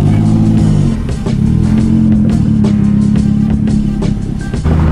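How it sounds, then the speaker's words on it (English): Tuned Mazdaspeed 3 engine revving hard nearby, with a loud deep rumble as the revs climb and hold and a steady mechanical roar throughout the short burst. "he's gonna give us a taste of that Mazda power"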